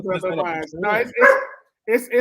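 A dog barks in quick bursts at new dogs outside, loud and close, with short yips between barks and a brief pause before the final bark.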